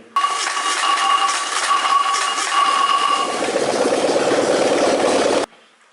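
A Fiat 126p engine runs with its valve cover removed and a stretched timing chain, giving a steady, loud mechanical clatter and hum up close for about five seconds before cutting off abruptly.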